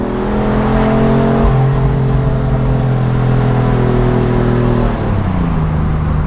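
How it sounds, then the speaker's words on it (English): A 2020 BMW M4 Convertible engine revs smoothly and loudly, free-spinning, pitch climbing and dropping through gear changes on a driving road, with no one speaking. "The engine is delightful,"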